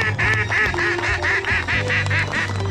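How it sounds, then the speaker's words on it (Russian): Loud, close duck quacking at an outdoor duck festival in the Tula region, a steady run of about ten nasal quacks in quick succession with low crowd murmur underneath. "Какая тут хорошая уточка стоит."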